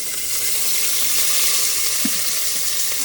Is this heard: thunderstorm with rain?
no